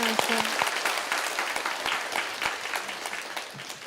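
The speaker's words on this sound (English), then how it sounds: "And your enthusiastic clapping." An audience applauds enthusiastically, a dense wash of many hands clapping that holds steady and tapers slightly toward the end.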